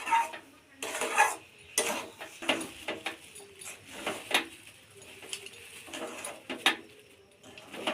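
Sugar being stirred by hand into a carrot and semolina pitha batter, giving a run of soft, irregular scraping and clinking strokes against a bowl at close range, with no talk over it.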